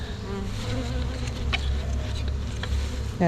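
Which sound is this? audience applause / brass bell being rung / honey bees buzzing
honey bees buzzing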